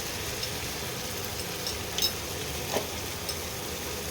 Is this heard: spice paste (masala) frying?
yes